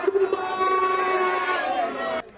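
A crowd at a campaign rally in Ikorodu cheers in one short, loud, sustained burst of massed voices that cuts off abruptly at the end.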